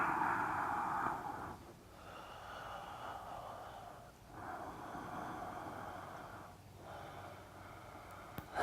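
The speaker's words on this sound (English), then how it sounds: "take 2 more breaths here" Slow, deep breaths during a yoga pose in a class, soft airy exhales recurring about every two and a half seconds, faint and close, with no talk.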